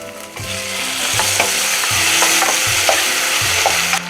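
Tomatoes hit roasted onions frying in a pan for a South Indian vathal kuzhambu curry, giving steady close sizzling with a series of regular stirring scrapes roughly every half second, no talk.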